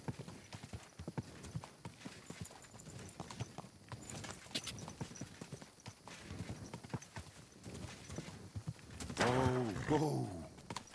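Horse hooves clip-clop steadily in Kingdom Come: Deliverance II over a busy game soundscape, ending in a loud horse whinny near the end.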